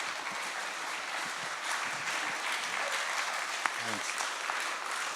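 Steady audience applause for Ian at the end of a talk and Q&A on nuclear power, sustained dense clapping that fills the whole stretch at moderate level, with a brief voice near the end.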